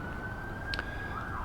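An emergency vehicle siren passes outside, a faint steady wailing tone drifting in the distance behind room noise with a brief click.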